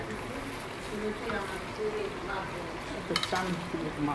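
Chop suey is stirred in a pan during cooking, a soft frying sizzle with faint scraping under a quiet voice, plus a couple of brief clinks.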